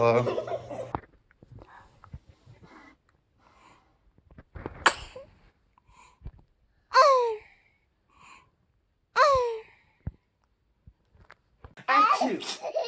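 A baby lets out several short sneezes, sharp high bursts spaced a couple of seconds apart, with an adult's voice and faint childlike sounds at the start and end.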